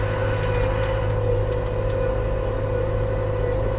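Erkunt Haşmet 110 and John Deere 5093 tractors baling hay in a field: a steady, loud engine drone with a constant mid-pitched hum and rumbling low end, continuous and unbroken throughout.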